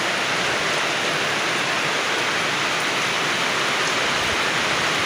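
Heavy rain pours down steadily as a dense, even hiss with no break, close and loud, with no voices.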